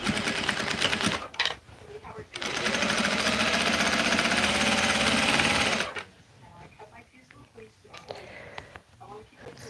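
A sewing machine stitches fabric for a quick baby gift in a steady burst of about three and a half seconds, close by, with brief shorter runs before it and quieter handling after.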